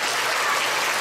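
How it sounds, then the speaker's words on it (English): Classroom audience applause during a physics demonstration on leverage, with a brief, dense burst of clapping at constant loudness and no talking over it. "If you think they're both the same, give it a round of applause."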